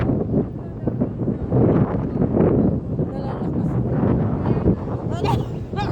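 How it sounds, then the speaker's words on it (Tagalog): Strong gusting wind in Abu Dhabi buffets the microphone as a constant heavy rumble and roar, with voices talking intermittently through it. "Ano, ang lakas talaga ng hangin."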